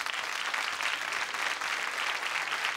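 A studio audience applauds steadily, a dense, even wash of clapping from many hands that holds at a constant level throughout, with no voices over it.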